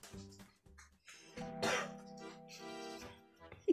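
Someone coughs and clears their throat a few times, short rough bursts mixed with faint voiced sounds, quiet and close in a rural home setting.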